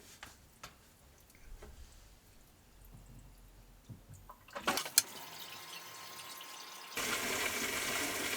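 An aquarium Jebao MDC pump starts up partway through, shifting a faint room hush into a steady rushing, bubbling circulation of water that grows louder and stays continuous to the end.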